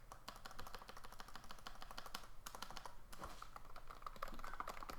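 Rapid typing on a computer keyboard, dense clicking keystrokes in quick bursts with a short pause, close and fairly quiet, no voices.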